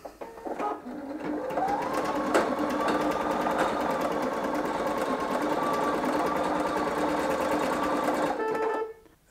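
A Singer EM9305 embroidery sewing machine runs steadily at close range, its needle mechanism giving a continuous rapid whirring drone for several seconds before stopping near the end.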